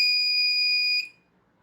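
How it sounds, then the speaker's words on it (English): A buzzer on an Arduino Uno Morse code player sounds while its button is held, a steady high-pitched electronic tone lasting about a second and then cutting off cleanly into silence. "when the button is pressed, the LED and the buzzer goes on."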